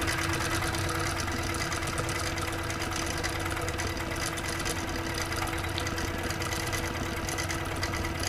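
A sewing machine doing free-motion straight line stipple quilting, laying down background fabric, runs with a steady, continuous mechanical hum and rapid stitching rhythm throughout, close and even in level, with no talk.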